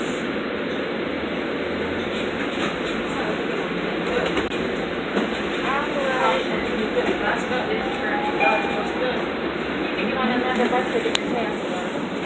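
Steady low rumble and road noise inside a moving city bus, with rattles, clanks and faint music or chatter mixed in throughout.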